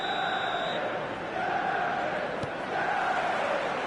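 A stadium crowd roars in a football video game match on PS4, a steady, dense wash of cheering and chanting with surges in volume, alone without clear talk.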